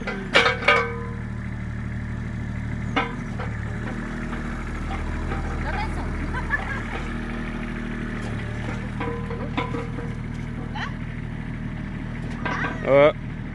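A neighbour's newly bought digger drives up and down a rural road in France, its engine a steady low rumble and drone running throughout, with people talking over it and a few sharp clanks.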